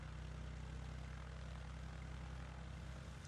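A light aircraft engine idles steadily after start-up, giving a faint, even propeller drone with a low throbbing pulse and no talking.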